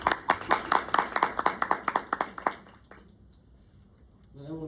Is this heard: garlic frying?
no